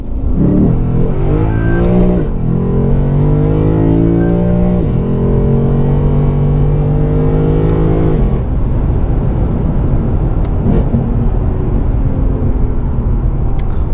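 A 2018 Lexus RC F with a 477 hp naturally aspirated engine accelerates in sport mode with manual shifting on country roads, revs climbing steadily through several gears with distinct upshifts, loud and close from inside the car.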